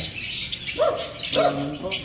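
Birds being sold chirp and tweet in short bursts, high, bright calls repeating close by over a lower voice-like murmur.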